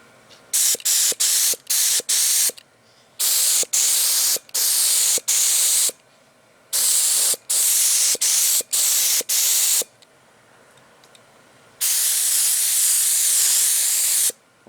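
Spray gun misting a light coat of clear paint onto a car, giving a series of loud, close hissing bursts of varying length separated by quiet gaps, ending with one longer spray.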